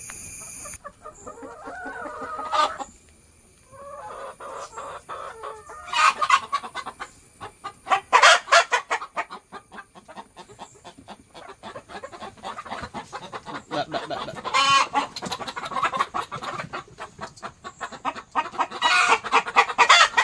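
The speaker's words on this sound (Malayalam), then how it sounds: "കുറച്ച് കോഴിയുണ്ട് കോഴീനെ ഞാൻ കാണിച്ചു തരാം ആ കോഴിക്കൂടും കോഴി കുഞ്ഞുങ്ങളൊക്കെ ഉണ്ട്" Chickens cluck and squawk in irregular bursts in and around a coop, several birds near and far, with a rooster crowing once amid the steady farmyard chatter.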